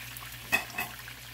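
Rice is mixed in a hot pan: a soft background sizzle with two quick stirring scrapes close by.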